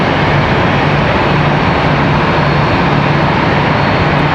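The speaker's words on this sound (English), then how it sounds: "Next ERJ departure headed to Cincinnati." A PSA Airlines ERJ regional jet departs Charlotte Douglas airport with a loud, continuous engine roar that holds steady throughout, with no voices.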